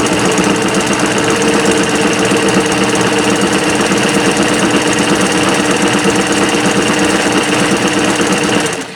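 An industrial sewing machine fitted with a single fold tape maker runs in one steady, loud, continuous mechanical buzz with a rapid needle chatter, then cuts off at the end.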